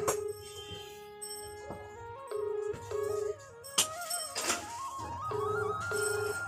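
A telephone rings inside a home with a melodic electronic tone. The ring plays repeatedly in bursts and is moderately faint, with no voices over it.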